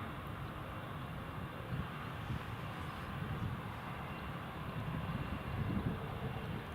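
A British Airways airliner at Newcastle International Airport gives a steady, distant jet roar that holds for the whole stretch and swells a little toward the end, blended with rain and wind on a wet day.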